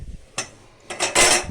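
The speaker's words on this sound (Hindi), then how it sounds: "भात छौंकना।" Cooked rice being tempered in a metal pot, with a few sharp clinks and scraping clatters of utensil against pot, spaced irregularly and close by, no voices.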